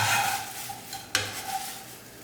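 Curry leaves fried crisp in coconut oil being scooped from a pan: metal utensil scraping and clinking against the pan with one sharp knock midway, over a faint sizzle.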